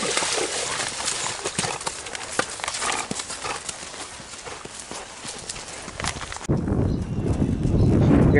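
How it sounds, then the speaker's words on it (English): Steady clip-clop of a spotted Tennessee walking horse mare's hooves, many quick regular beats up close, ending in a splashier, lower rumble as she steps into water. "a 4-year-old, 14-hand, spotted Tennessee walking horse mare"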